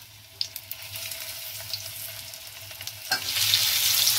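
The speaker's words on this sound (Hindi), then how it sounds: "देखिए ऑयल गर्म हो गया है, अब इसमें हम डालेंगे भरवा।" Stuffed bitter gourd (karela) goes into hot oil. A quiet, crackling sizzle swells into a loud, steady frying hiss close by, with no talking.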